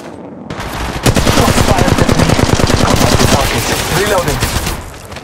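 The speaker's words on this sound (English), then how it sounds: "I'm taking fire." Rapid sustained automatic gunfire in the mobile battle royale game Apex Legends Mobile, loud and close, a dense stream of rounds running almost unbroken for several seconds after a short quieter lead-in.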